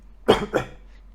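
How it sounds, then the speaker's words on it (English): Two quick, close coughs in a row, the second slightly softer, with nothing else but faint room noise around them. "sorry, got a cough."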